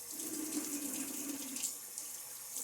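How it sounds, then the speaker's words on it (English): Water from a tap runs steadily into a bathroom sink during a wet shave with a Gillette safety razor, a close, even hiss with no speech over it. "as I get a little bit more water here"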